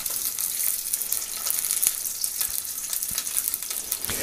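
Poultry browning gently in a hot pan gives a steady, close sizzle of frying fat with small crackles and pops throughout, alone and without talk.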